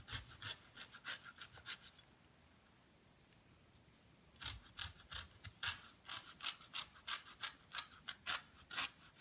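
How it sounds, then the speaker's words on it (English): Orange peel is pulled away from the fruit in a kitchen during carrot cake preparation, close, quiet tearing and rubbing strokes in rhythmic bursts with a short still pause in the middle. "Get an orange, and as you guys can see, I have already started peeling it."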